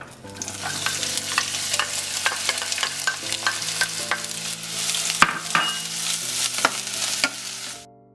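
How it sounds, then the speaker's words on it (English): Onion sautéing in a pan, a close, busy sizzle with frequent stirring clatter and taps of a utensil on the pan, music playing beneath it. "We're gonna saute the onion for about 2 minutes until it gets crystal"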